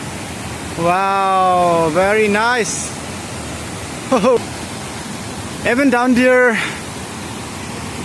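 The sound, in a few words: Dwijiri Waterfall roaring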